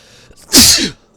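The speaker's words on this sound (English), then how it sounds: "That was like a deep sneeze." A single deep sneeze bursts out close and loud after a short intake of breath, then fades quickly into near silence.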